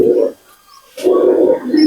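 A breeder pigeon being handled gives low, throaty coos in two bursts with a quiet pause between, close and fairly loud.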